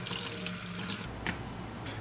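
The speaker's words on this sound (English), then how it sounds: "So we're over at the sink here, and I'm just gonna rinse all this stuff off." Green beans rinsed under a running kitchen sink tap, a steady close water stream splashing over them with a brief louder splash near the end and no talking.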